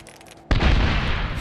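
A frag grenade explodes during a bunker assault in a Medal of Honor war game, a sudden loud blast midway that crashes in and leaves a sustained, roaring rumble of debris and battle noise to the end.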